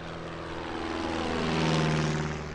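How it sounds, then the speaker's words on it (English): A pair of 1930s American two-seat Hercules touring propeller planes fly past at an airshow in Leszno, a steady droning engine hum that swells slightly as they pass, continuous and moderately loud. "a pair of Hercules, wonderful 1930s two-seat touring aircraft from the USA"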